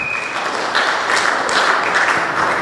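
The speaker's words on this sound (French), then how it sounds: "let's give the Lord a clap offering" A church congregation applauding in a clap offering, a dense, sustained burst of many hands clapping together at close range, filling the room throughout.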